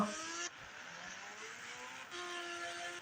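A car's engine hums and shifts pitch in the mobile driving game Indian Bike Driving 3D as it backs up, with a steady synthetic drone that drops and then rises in tone across a few seconds.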